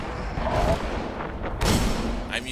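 Hand cannon fire in the game Destiny during a Crota's End raid, a few heavy booming shots with a deep low thump, one especially loud blast midway, over a rumbling game soundscape.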